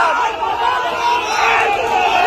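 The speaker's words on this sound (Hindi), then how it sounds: "वोट चोर एवं विधायक मुर्दाबाद सन नारा लगबऽ लागल" Protesters at a rally against the Bisfi MLA in Madhubani shout anti-MLA slogans as a dense, continuous crowd roar. Many voices overlap steadily and loudly close by, with no single speaker standing out.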